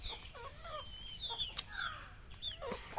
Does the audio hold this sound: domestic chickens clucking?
yes